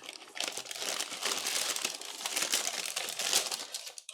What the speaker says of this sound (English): I'm just going to tear everything open.